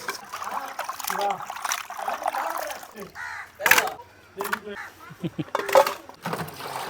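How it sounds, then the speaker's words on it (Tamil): Fish being washed by hand in water, rinsed three or four times, with splashing and trickling in uneven bursts close by, broken by short pauses, as a voice talks intermittently over it. "நல்லா 3-4 வாட்டி உலசி கழுவணும். அதான் மீன் சுத்தமாகும்."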